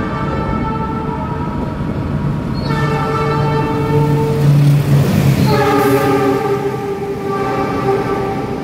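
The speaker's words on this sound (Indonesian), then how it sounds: "Dan akan kena susul oleh kereta api Sembrani yang mau ke Jakarta." A Sembrani passenger train sounds its horn in long sustained blasts, one after another, loud and close, over the steady rumble of rolling rail cars.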